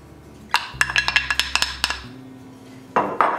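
A spoon stirs biscuit batter with parsley and cheese in a bowl, producing a quick run of sharp clinks and scrapes against the dish, about a dozen close taps, then a pause and a couple more knocks.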